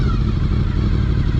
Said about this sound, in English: we're going to start adding throttle